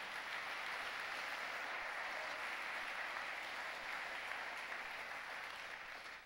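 Church congregation applauding during a Spanish-language worship service, a faint, steady, distant wash of clapping that continues evenly and fades slightly at the end.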